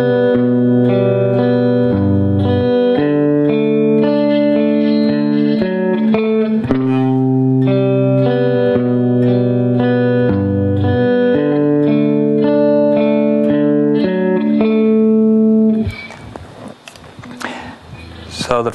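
Slow, clean electric guitar arpeggio, a two-measure pattern of ringing picked notes repeating steadily with light effects and reverb, played alone before a brief strum at the end.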